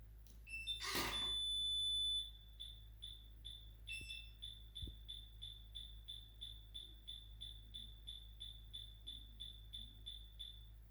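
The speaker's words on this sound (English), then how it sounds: "a long beep will sound, followed by a series of short beeps" A PS Lock electronic cabinet lock gives a long high beep, then a steady series of short, evenly spaced beeps, fairly faint, with a couple of small clicks.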